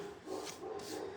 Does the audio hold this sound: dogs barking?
yes